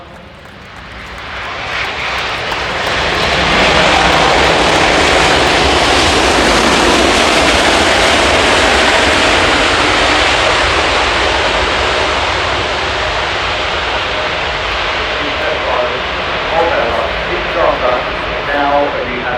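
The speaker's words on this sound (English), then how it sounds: "From Airbus, the A350-1000 touching down here at Farnborough" An Airbus A350-1000 airliner touches down at the Farnborough International Airshow 2018, a loud, broad jet engine roar that swells over a couple of seconds, holds, then eases slightly as the aircraft rolls out.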